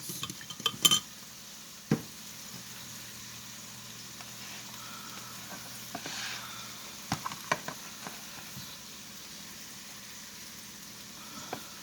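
Peppered steak sizzles in a hot pan with a steady, soft frying hiss. Sharp clinks of utensils against the pan and a few scraping stirs break in now and then, and no one speaks.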